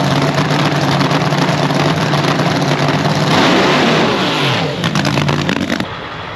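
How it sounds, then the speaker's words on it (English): Nitro funny car engine revving at a drag strip at night, a loud, raw, sustained roar with rapid crackling pulses that swells, dips and then cuts down near the end. "the engine was revving up super high"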